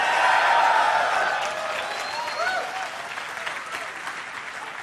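A live audience at a motivational speaking event bursts into loud applause and cheering that gradually fades, with scattered whoops and crowd voices under the clapping.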